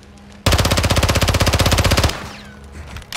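Rapid automatic gunfire in Call of Duty: Modern Warfare II, a loud close burst of evenly spaced shots lasting under two seconds, followed by a fading echo.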